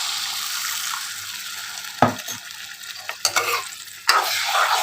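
Water poured into a pan of frying omelette curry, a constant sizzle punctuated by three loud splashing bursts as liquid hits the hot pan, close and without speech.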